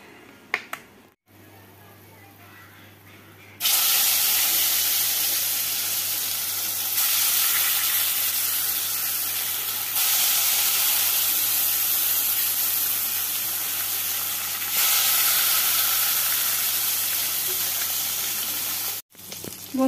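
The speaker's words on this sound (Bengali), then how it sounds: "চলো তাড়াহুড়ো করে মাছগুলো আগে ভেজে নিই।" Fish frying in hot oil in a home kitchen, a steady loud sizzle and crackle that runs almost unbroken for over fifteen seconds after a quiet start, swelling slightly in waves.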